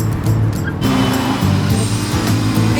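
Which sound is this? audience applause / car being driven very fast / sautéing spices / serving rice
car being driven very fast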